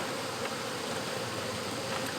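Continuous close buzzing of honeybees at a hive-top feeder, a steady droning hum with no other sounds.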